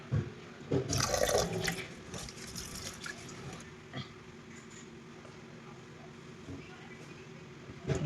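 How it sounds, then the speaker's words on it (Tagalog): Clean water pours into a pot of rice, a gurgling splashing stream loudest at the start that settles into a softer steady trickle, with a few faint clinks and a voice in the background. "we're gonna fill in with clean water"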